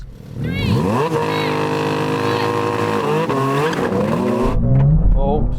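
A BMW M2 CS and a Porsche GT4 RS launch on cold tyres, tyres squealing and sliding in wheelspin as engines rev hard and loud, pitch sweeping up through gear changes, the roar close and sustained before a final squeal.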